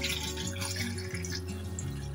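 Water is poured into a simmering fish curry gravy, a close, steady liquid splash and gurgle with bubbly pitch changes, without talk.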